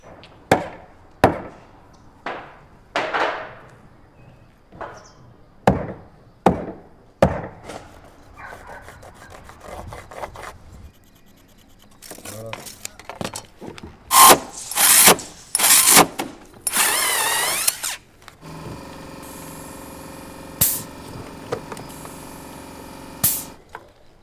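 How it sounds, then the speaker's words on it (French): Wooden floor panels are fixed to joists on a ground-floor timber floor: a series of sharp hammer blows on nails, then shorter bursts of a power screwdriver driving screws at the panel corners, close and loud without talk. "Les panneaux de plancher sont fixés sur les solives par clouage et complétés d'un vissage à chaque angle de plaque."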